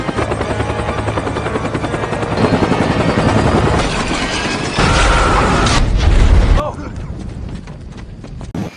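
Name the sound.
helicopter in a film scene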